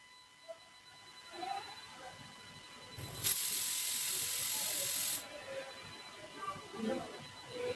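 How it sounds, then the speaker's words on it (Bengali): A pressure cooker of mutton biryani gives one loud, sustained hiss of escaping steam lasting about two seconds. Quieter kitchen sounds and a voice surround it. "প্রেসার কুকারের ঢাকনাটা বন্ধ করে দিয়ে গ্যাসের আঁচটা মিডিয়াম ফ্লেমে রেখে 3 টে সিটি দিলেই কিন্তু হয়ে যাবে"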